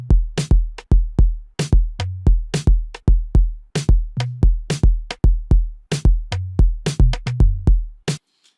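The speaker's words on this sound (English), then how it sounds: "I added a tom, and the tom sounds like this together with the drums." Afrobeat drum pattern with a pitched tom from a sound kit layered over kick, snares and percussion; loud, tight hits in a repeating syncopated groove, the tom's lower tuned thuds popping between the other drums.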